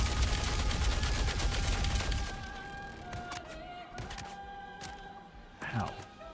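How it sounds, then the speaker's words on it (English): Rapid gunfire aimed at the player in Star Citizen, a loud sustained barrage at first that fades into scattered thuds and bursts, with someone talking over it. "I think I am being shot at."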